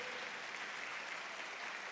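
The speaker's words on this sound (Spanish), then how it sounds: "Dale un aplauso fuerte a Dios." Steady applause from a church congregation during a Spanish-language sermon, a dense continuous wash of clapping at moderate level throughout, with no voices over it.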